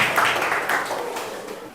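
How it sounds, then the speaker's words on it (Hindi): A classroom of students claps for a classmate during a maths quiz, with steady mid-level applause that gradually fades and no talking over it. "निर्मला मरांडी के लिए एक जोरदार ताली होना चाहिए"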